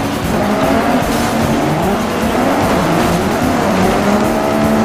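Race car engines roar alongside squealing, skidding tires in the racing video game MotorStorm, loud and dense throughout with no talking.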